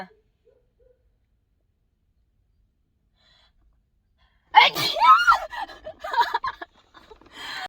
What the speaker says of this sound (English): hold up, I gotta sneeze